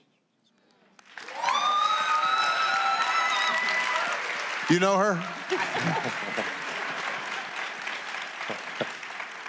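A forum audience bursts into sustained applause and cheering, with whoops and voices rising over the clapping; a person speaks briefly before the applause builds.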